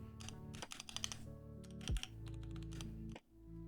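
Typing on a Keychron Q2 mechanical keyboard, with close, crisp key clicks in quick bursts and a deeper spacebar press, over a low steady hum.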